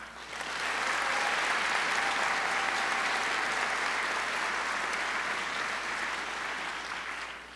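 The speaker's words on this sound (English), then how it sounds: "could I ask for a round of applause for them?" Sustained audience applause at a university presidential inauguration ceremony, a steady dense wash of many hands that fades in, holds loud and even for several seconds, then tapers slightly, with no talking.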